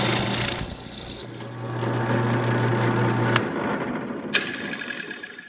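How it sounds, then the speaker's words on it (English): A drill boring a dowel hole to depth in wood, a loud whining burst for about a second, then a lower steady hum with clattering as the bit winds down, and a brief sharp knock near the end. "Here I am drilling the hole to the proper depth for the dowel."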